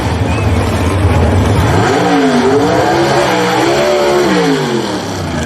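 A drag racing car does a dry hop, its engine blasting loud and close in a sustained roar with rising and falling revs across the middle of the clip, while track noise fills the background.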